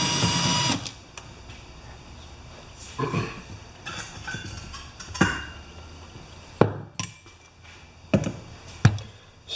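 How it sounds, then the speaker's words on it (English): A power drill whirs in short bursts, with sharp clicks and clatter between runs as screws come loose from a Predator 2000 generator. "I'm using a drill because there's so many of them."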